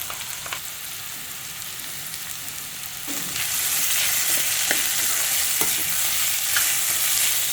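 Beetroot frying in a pan as grated coconut goes in, a steady close sizzle that swells and grows louder about midway, with light stirring scrapes throughout.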